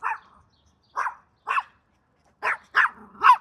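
A dog barks six times in short separate bursts, close and loud, with pauses between the first few and a quicker run of barks toward the end, during an air-raid period in Kyiv, Ukraine.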